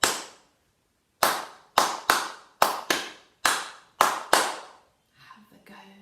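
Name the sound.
hands clapping a syncopated rhythm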